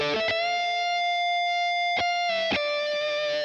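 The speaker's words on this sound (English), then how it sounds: "we're going to stick it on the brown setting and we're going to put the variation on" An electric guitar plays through a Boss Katana amp on its brown setting with the variation switched on, giving a distorted tone: a sustained overdriven note rings out, broken by a few sharp picked attacks, loud and close.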